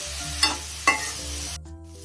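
Sliced onions frying in a pan for a crab pepper gravy, a steady sizzle with two bright scraping stirs, then a low hum continues after the sizzle cuts off.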